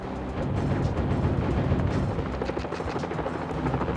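Helicopter in the Mission: Impossible video game, a loud, dense rotor-and-engine roar that drones continuously from start to finish, with no voices over it.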